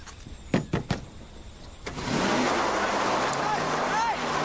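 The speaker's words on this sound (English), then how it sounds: "Hey, stop the car!" A few sharp clunks like doors or mechanisms come first, then a car's engine and road noise swell into a steady, fairly close drone with faint voices underneath.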